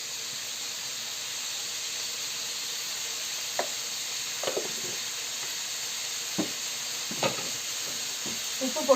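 Crab pieces sizzling in a pan of hot oil for crab gravy, a steady close hiss with a few sharp crackles and spits popping out now and then, no voices.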